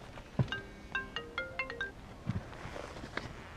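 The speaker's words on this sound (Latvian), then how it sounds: "vēl telefons zvana, protams." A mobile phone plays a short melodic ringtone during pike fishing on the Lielupe river; the brief sequence of tonal notes sounds faint and distant beneath outdoor handling noises.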